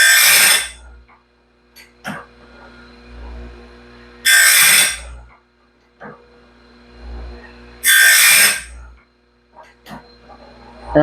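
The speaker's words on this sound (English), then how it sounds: "I'm just basically sharpening the face of the tooth to get it sharp." A hand file sharpens the tooth faces of a sawmill band blade in three loud, bright rasping bursts, each about a second long and spaced a few seconds apart, with quieter scraping and a low background hum between strokes.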